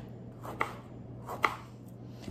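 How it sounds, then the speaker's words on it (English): A knife slicing a tomato on a cutting board lands in two distinct chops about a second apart, close and crisp, with a faint third tap at the end over low background hum. "So I cut the tomato in 4 and I make slices."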